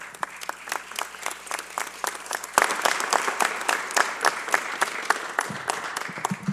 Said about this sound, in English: Before you stop applauding